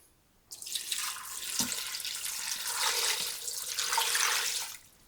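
Chicken broth poured into a cooking pot, a steady splashing liquid stream that starts abruptly, runs for several seconds with slight swells, then stops; close and moderately loud with no talking.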